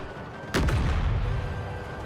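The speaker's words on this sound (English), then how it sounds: "my cannons are firing on their cannons" Cannon fire in the strategy video game Empire: Total War, a single sharp, loud boom with a rumbling tail that fades slowly under steady battle ambience.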